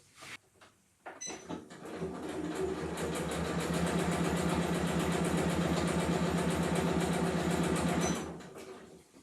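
A sewing machine stitches down tote bag handles, starting with a few hesitant clicks and then running in a long, steady, close rattling whir before stopping.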